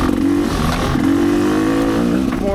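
Rieju MRPro two-stroke dirt bike engine revving steadily in second gear on a trail, a loud, continuous buzzing drone that rises and falls slightly, close to the rider, with no talk.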